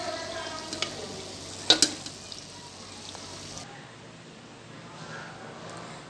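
Potato samosas fry in hot oil with a low, steady bubbling hiss, a few sharp clinks of a utensil near the start, and the sizzle thinning out partway through.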